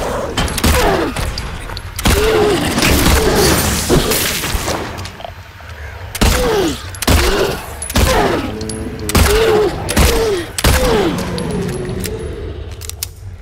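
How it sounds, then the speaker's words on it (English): Gunshots from a handgun fired at an enemy in the video game Silent Hill 2, sounding as loud, sharp blasts in irregular bursts with short pauses between them, plus mechanical clicks and thuds. "I have to shoot each arm 3 times to get it to drop."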